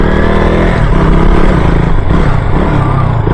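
KTM Duke 200 single-cylinder motorcycle engine fitted with a new throttle body, running loudly and close with a rough, pulsing rev and throbbing exhaust beneath heavy wind noise.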